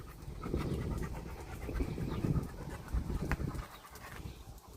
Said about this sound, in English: That's a good doggy.